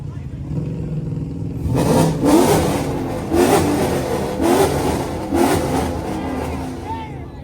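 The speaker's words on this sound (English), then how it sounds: "the Camaro is way louder, but the C8 sounds 10 times better, bro" A Chevrolet Camaro or Corvette C8 engine revs in repeated loud pulses, roughly four throttle blips about a second apart, close by with a steady low rumble between them and voices over it.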